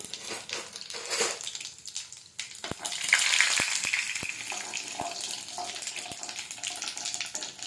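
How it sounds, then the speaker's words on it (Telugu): Cumin, mustard seeds and lentils (urad and chana dal) sizzle and crackle in hot oil for curry leaf rice, a steady close frying hiss with small pops, no voices. "నూనె బాగా వేడైన తర్వాత ఇందులోకి పోపు దినుసులు అండి"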